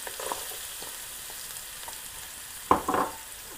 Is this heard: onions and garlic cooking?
yes